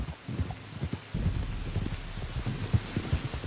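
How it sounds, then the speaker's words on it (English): Rain falling in the game Red Dead Redemption 2, a steady patter with soft irregular thuds, like hoofbeats or drops, running underneath. "You were right about the damn rain."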